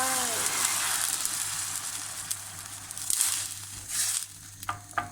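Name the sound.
homemade stock poured into pot with frozen peas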